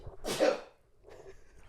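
A single sharp sneeze bursts out close by, followed by a brief softer breath or murmur.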